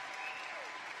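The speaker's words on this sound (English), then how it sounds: "Let's give a rowdy round of applause for Jim Lee." Brief applause at a graduation ceremony, a short burst of clapping from the audience heard fairly faint and at a distance.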